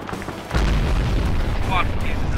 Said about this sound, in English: The fucking bomb went off.